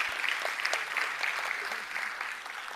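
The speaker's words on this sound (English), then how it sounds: "So let's give them a big round of applause." An audience at a school board meeting claps steadily in a dense, continuous wash of applause, moderately loud and sustained throughout with no pauses.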